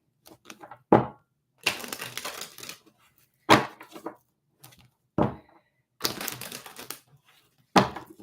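Tarot cards being shuffled in quick riffling bursts, several separate rounds split by short pauses, with sharp snapping and fluttering, close and fairly quiet.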